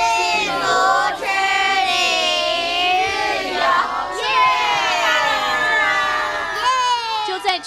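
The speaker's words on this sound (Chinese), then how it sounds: "全车人员的欢呼声中" People aboard a tour bus cheer and shout together as a community day trip in Kaohsiung sets off, loud excited voices including children overlapping in waves.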